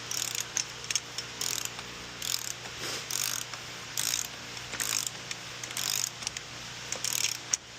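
Torque wrench clicking and ratcheting on a Jeep JK front axle nut, a regular series of sharp metallic clicks about twice a second over a faint steady hum, with no talk.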